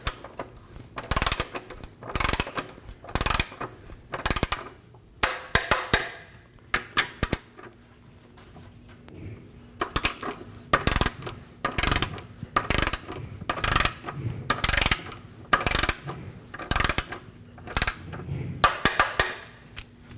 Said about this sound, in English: Now let's torque them down.